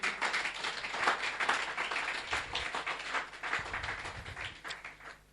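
A church congregation applauds in a steady wash of many hands clapping, fairly even in loudness and moderately distant, with no voices over it.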